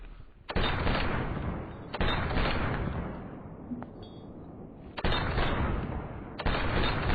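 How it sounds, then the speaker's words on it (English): Rifle gunfire from an Mk-1 EMR in Arma 3, a King of the Hill match: four loud, sharp shots spaced a second or more apart, each followed by a long rumbling echo that fades between reports. "Doing what I can to shoot at them while preventing them to be able to see me shooting at them"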